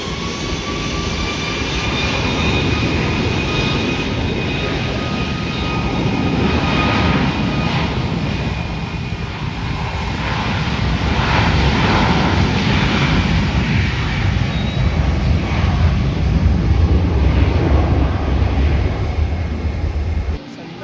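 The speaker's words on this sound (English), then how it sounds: "Air Transat 641 heading to Montreal on the A321neo LR or long range." Air Transat Airbus A321neo LR jet airliner at San Juan airport, a loud sustained engine roar and whine that swells and holds for about twenty seconds, heard from nearby.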